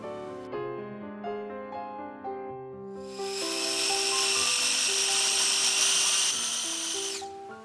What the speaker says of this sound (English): I'll grind it coarsely.